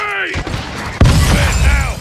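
RPG rocket hit in Call of Duty: Modern Warfare II: a sudden loud blast with shattering debris midway, following whooshing and mechanical battle noise, then ringing rumble after the impact.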